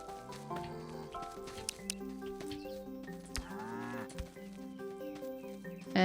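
A cow moos in a barn in the farming game Staxel, alongside steady game music, with a few short calls breaking through the melody.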